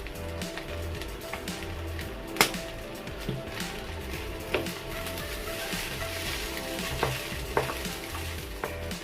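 Chinese sausage sizzles and fries in a wok for Yangzhou fried rice, a steady crackling hiss with sharp clinks of a spatula stirring and scraping at intervals, close and moderately loud, with no talking.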